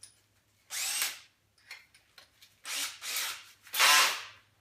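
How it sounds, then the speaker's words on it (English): A power drill with a 3/8 inch bit bores through a plastic worm bin in several loud, whining bursts up close, separated by short pauses. "with about a 3/8 inch drill bit"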